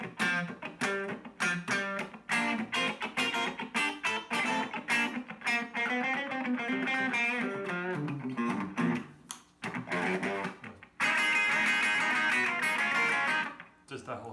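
A Gibson Les Paul Special Tribute 2020 electric guitar played clean through the middle pickup position, with strummed chords and picked notes ringing loudly throughout and a brighter sustained chord near the end.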